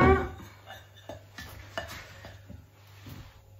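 Utensil scraping and clinking in a bowl of melted chocolate being stirred during tempering, irregular soft taps and scrapes, close and moderately quiet.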